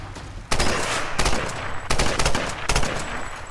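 Gunfire in the Tomb Raider video game, aimed at barrels: four loud, close bursts of rapid shots, each stopping abruptly and separated by short pauses.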